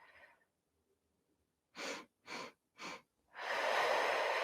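Breaths during a guided energy-routine session: a short exhale, a pause, then three evenly spaced close breaths followed by one long, loud sustained exhale, with no talk.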